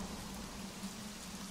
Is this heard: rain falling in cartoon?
yes